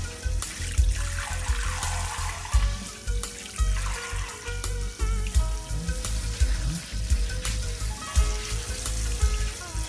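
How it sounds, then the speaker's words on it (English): Soaked sticky rice is drained and rinsed under running water for a Vietnamese magenta rice dish, a steady splashing trickle with small clinks and gurgles throughout, close and fairly loud with no talking. "After 2 hours, drain the water and rinse off the rice."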